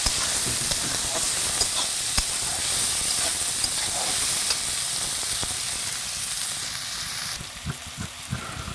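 Chopped green chillies with carrots, potatoes and lentil nuggets frying in a pan, giving a steady, close sizzle with crackling pops throughout, easing slightly near the end.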